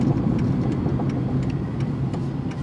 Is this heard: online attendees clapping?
no